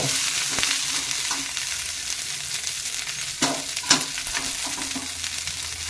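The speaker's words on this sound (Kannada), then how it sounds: "ಇದು ಚೆನ್ನಾಗಿ ನಾವೀಗ ಫ್ರೈ ಮಾಡ್ಕೋಬೇಕಾಗತ್ತೆ." Cluster beans fry in oil and are stirred over a slow flame, a continuous close sizzle broken by several scraping strokes of a spatula against the pan. No voices.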